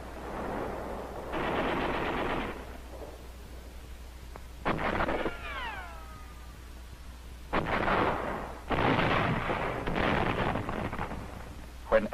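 Battle footage from Saipan carries bursts of machine gun and rifle fire. Loud, rough volleys rattle in separate clusters, and a brief descending whistle cuts through between them.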